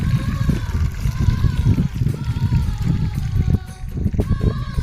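Water spills over from rain-filled paddy fields in a continuous nearby gush, a rushing, burbling stream that stays loud and steady from start to finish.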